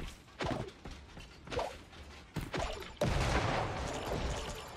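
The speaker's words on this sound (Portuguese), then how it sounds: "Morreu na granadinha mesmo." A grenade blast in the shooter game Creative Destruction, where sharp gunfire-like cracks and whooshes lead into one loud, sustained explosive roar that fills the last couple of seconds.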